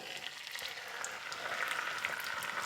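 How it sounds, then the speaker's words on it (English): An egg goes into a hot frying pan and sizzles steadily, a soft continuous crackle of frying with faint small pops, no voices. "Put the egg in."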